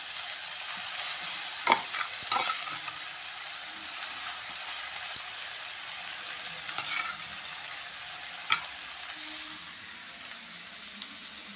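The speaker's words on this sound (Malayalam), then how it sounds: "ഇരുമ്പ് ചട്ടിയൊക്കെ നന്നായി ചൂടായിട്ടുണ്ട് അതിലേക്ക് നമ്മൾ ബീഫെല്ലാം ഇട്ട് കൊടുക്കുക" Beef fries in a well-heated iron pan over a stove, a long continuous hiss of sizzling with occasional clicks and scrapes of stirring, close and steady with no voices.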